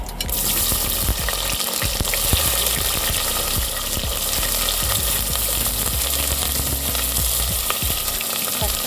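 Fenugreek seeds, cumin and onions fry in a pan for quail gravy, giving a steady, close sizzle with scattered crackles and light scraping throughout, with no voices.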